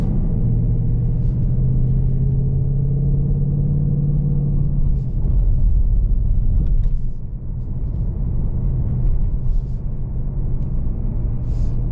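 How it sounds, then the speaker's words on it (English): A 2024 Ford Mustang GT being driven, giving a steady low engine drone and road rumble heard from inside the cabin, with a brief dip in level midway and no talking. "here we are driving the Mustang"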